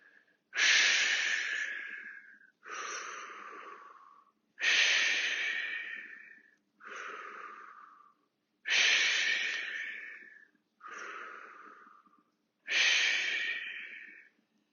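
Seven long, strong breaths during exercise, alternating exhales and inhales, each one lasting about a second and a half with short pauses between, close to the mic in a quiet room, with no talking.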